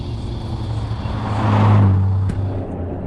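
A 1993 Nissan GT-R R32, all-wheel drive, drives with a steady engine and road roar that swells toward the middle, then eases back. No one speaks.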